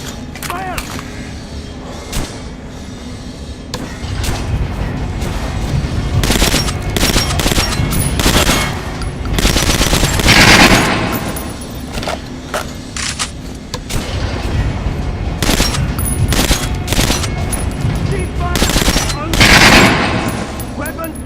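Rapid gunfire at a shooting range in the video game Metro Last Light, with repeated loud bursts and single shots spread across the span, mixed with shouted voices and booming impacts.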